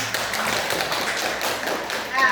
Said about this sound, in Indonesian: Mari kita kasih aplaus.